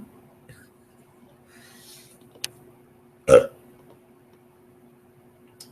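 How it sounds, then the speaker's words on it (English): A single short, loud burp stands out against a quiet background with a faint steady hum, and a few soft clicks come before it. "I got burping like crazy."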